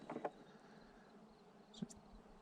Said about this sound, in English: Just thousands of bees humming, just buzzing.